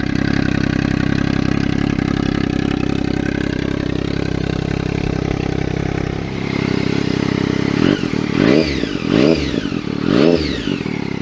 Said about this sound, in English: The exhaust does sound good, but for me, it's a bit too loud. Sounds a bit like a straight pipe diesel.